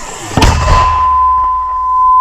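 One loud gunshot cracks out on a Donetsk region frontline in 2022 and echoes briefly, followed by a steady electronic tone and low background rumble.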